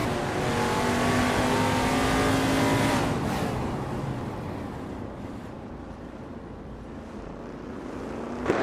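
Race car engines roar steadily in a racing video game, a Mercury Cyclone among the field, with a sustained loud drone and a rising whine that fades after about three seconds into a softer continuous rumble.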